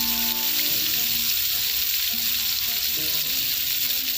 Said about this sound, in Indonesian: ayamnya tidak akan kita goreng sampai garing banget, tapi hanya akan kita tumis saja